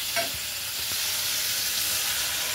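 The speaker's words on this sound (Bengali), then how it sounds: "আমি ইঁচড়টা ঢেলে দিলাম" Green jackfruit cooking in a hot pan, a dense steady sizzle and hiss with a couple of faint stirring scrapes early on, close and unbroken.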